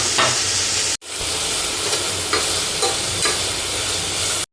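Chopped onions fry in a hot pan, a steady loud sizzle running almost unbroken, with a brief cut near the start and stirring scrapes now and then.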